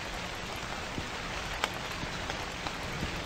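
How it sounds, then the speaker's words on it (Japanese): Rain falling at night by a convenience store in a horror game, a constant hiss of steady rainfall with a few sharper drop impacts scattered through it. "雨。"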